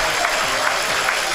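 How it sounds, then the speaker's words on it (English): Applause from the crowd at a women's 10m air rifle final during the 2017 ISSF Junior World Championship, a steady, dense patter of many hands filling the short moment without pause. "Takes a bow for the applause."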